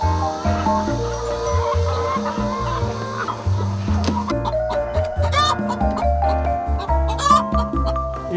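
Farm chickens clucking loudly and steadily, many birds overlapping close by in an open-air setting where hens bask in sunlight, with no voices.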